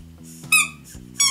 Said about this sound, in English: a squeaky toy